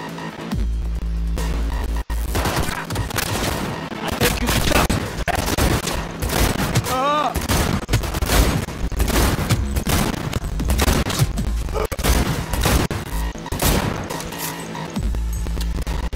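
Sustained gunfire from an enemy shooter in Cyberpunk 2077, dense bursts and rapid shots rolling almost continuously over a low droning hum, loud and close throughout.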